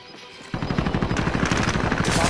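Video game gunfire opens abruptly after a brief quiet moment with a loud, rapid burst of automatic shots, each crack evenly spaced, and the firing sustains to the end.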